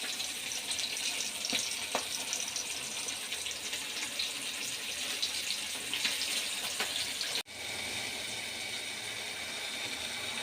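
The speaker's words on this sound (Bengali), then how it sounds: "তো একটু মাছ রান্নার জন্য মশলা কষাইতেছি" Spice paste (masala) fries in a pan for a fish curry, giving a continuous crackling sizzle that cuts out for a moment and then resumes, with no talking.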